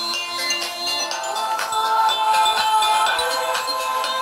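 Music plays from a phone through a homemade toilet-roll speaker, a thin, tinny melody with clear repeated tones, steady and moderately loud, with no voices.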